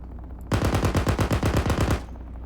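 Rapid automatic gunfire from a tank firing rounds at a target on a training range, a loud burst of about a dozen evenly spaced shots lasting roughly a second and a half, then stopping abruptly.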